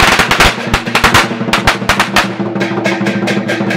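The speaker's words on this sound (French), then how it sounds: "on doit allumer les pétards pour faire fuir les mauvais génies." A long string of firecrackers set off at a Tet celebration ceremony crackles in rapid, dense bursts of sharp pops, loud and close, with no pause for nearly four seconds.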